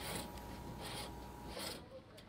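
Bottom edge of a home-built 15-foot plywood boat being chamfered by hand, giving steady rasping strokes in short bursts, close and moderately loud.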